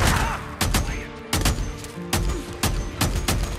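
Light machine gun firing in the Days Gone video game, heavy booming bursts and single shots landing at irregular intervals, loud and close, with a rumbling tail between shots.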